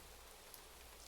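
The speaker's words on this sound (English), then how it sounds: "in the middle of your walk, it starts to rain" Rain falls during a walk in a video game, a faint, even hiss of steady patter with no talk over it.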